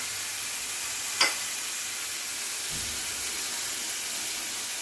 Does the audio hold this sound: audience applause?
no